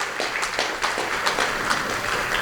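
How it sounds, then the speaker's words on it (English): Audience at a village tenth anniversary party clapping for the founders, a steady patter of many hands filling the room. "So let's have a nice round of applause for the founders."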